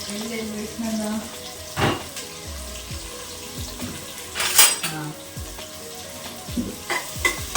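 Onions frying in oil for South Indian rice bath, a steady sizzle with stirring, clanks of a utensil against the pan and a running tap, close by.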